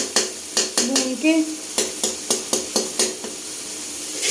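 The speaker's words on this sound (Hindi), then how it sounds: "मसाले को अच्छी तरह भून के" Masala spices roasting in a pan for bhindi, with a steady sizzle and a spoon scraping and tapping against the pan in a regular rhythm, loud and close with no talking.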